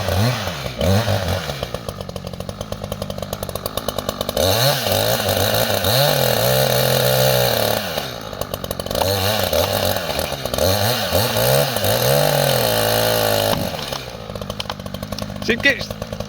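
A chainsaw cuts into a tree, its engine roaring close and loud in repeated revving surges that drop back between cuts, with a voice heard along with it.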